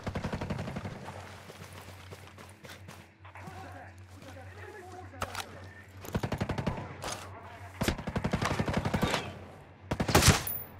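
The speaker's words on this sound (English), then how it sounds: "That's a light machine gun." A light machine gun fires in bursts in the video game Ghost Recon Breakpoint, with sharp rapid volleys of close gunfire, pauses between them, and a louder burst near the end.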